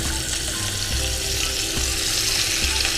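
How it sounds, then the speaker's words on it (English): A pork chop searing in a hot pan, a continuous dense sizzle and crackle heard close up, without voices. "I'm gonna put the side that I don't have any spices on it down first to let it sear"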